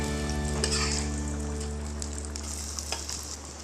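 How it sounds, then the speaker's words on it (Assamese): Boiled eggs frying in hot oil in a pan while an Assamese egg curry is prepared: a steady close sizzle with occasional louder crackles and spits, alone with no talk. "ইয়াতে তেল দি দিছোঁ আৰু যিখিনি কণী মই উঠাই ৰাখিছিলোঁ বাতিৰ পৰা, এইখিনি অকণমান ফ্ৰাই কৰি ল'ম।"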